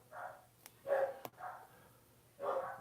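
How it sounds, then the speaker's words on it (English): Dogs bark several times nearby in a short uneven burst, loud full barks separated by brief gaps, with no talk over them. "the dogs are barking like crazy"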